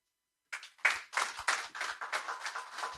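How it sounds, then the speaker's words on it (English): Audience applause after a speech at an energy group event, a small crowd clapping in an irregular patter that starts abruptly and continues steadily at moderate distance. "A round of applause. Bigger, keep it going."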